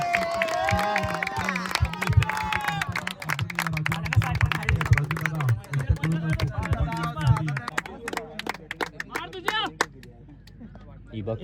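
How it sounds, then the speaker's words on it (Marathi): A crowd at a cricket match cheers and claps for Patil madam, with loud voices and music mixed in, and the applause fades away toward the end. "या पाटील मॅडमसाठी एकदा जोरदार टाळ्यांचा गजर"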